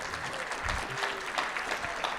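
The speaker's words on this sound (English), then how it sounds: "Give Bo a big round of applause" An audience at a school quiz-competition final claps for a student called to the front, a steady wash of applause lasting a couple of seconds with no voices over it.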